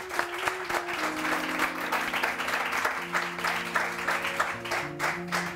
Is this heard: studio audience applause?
yes